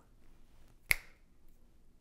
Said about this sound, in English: I'm snapping my fingers, and you may have noticed that my finger snaps fall on beats 2 and 4